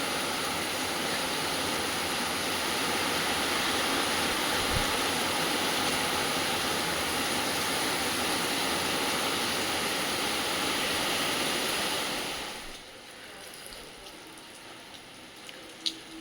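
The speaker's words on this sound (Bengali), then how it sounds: "দেখো মুষলধারে বৃষ্টি পড়ছে একদম" Dense, steady roar of heavy rain pouring down, loud and unbroken, then abruptly dropping to a much quieter hiss near the end.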